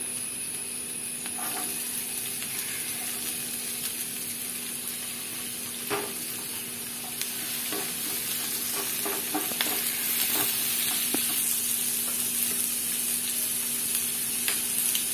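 Sliced onions frying in a pan for a snake gourd curry, a steady soft sizzle running throughout with occasional stirring clinks and scrapes that grow slightly busier toward the end.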